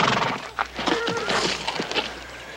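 An elderly white stallion neighs in a shrill, wavering whinny that rises and falls over a couple of seconds, fairly close and loud with faint background noise.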